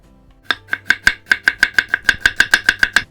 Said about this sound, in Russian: 4-5 луковиц нарезаем четверть кольцами